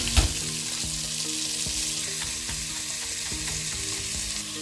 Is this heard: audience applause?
no